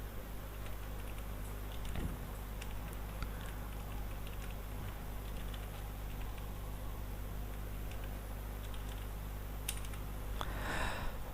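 Fingers type on a computer keyboard while entering text into an Excel spreadsheet, a quiet, steady patter of small clicks with brief pauses, close and soft, with no talking.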